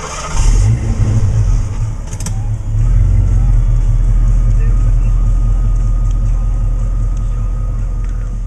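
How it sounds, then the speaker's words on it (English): A 1989 Ford Mustang ASC McLaren convertible is driven on a sunny day, its engine rising from a low rumble into a steady, loud drone close by, with a brief clatter early on. "Nothing like driving a convertible on a day like today"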